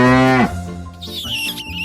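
A single cow moos loudly at close range in a park in Scotland, one long low call that cuts off abruptly, followed by quieter ambient noise with faint chirping.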